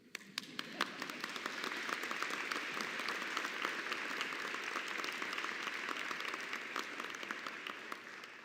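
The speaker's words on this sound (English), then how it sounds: "Now we can applaud." A large audience applauds steadily at a university presidential inauguration ceremony, a dense sustained wash of clapping with sharp individual claps standing out, with no one speaking.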